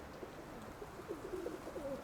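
Pigeons coo softly for a moment, a few low burbling calls over faint background noise, quiet and close, with no one speaking.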